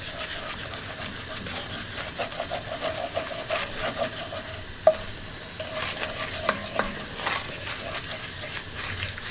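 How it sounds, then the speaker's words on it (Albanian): Meat for traditional Dibra pache is stirred without pause as it fries, giving a steady, close scraping and sizzling with a sharp clink near the middle and a few small knocks later, and no voices. "Kështu e përzini pa ndërprej deri sa të fillon me u skuq."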